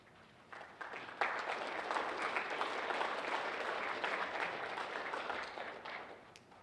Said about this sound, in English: please join me in thanking your parents and teachers with a round of applause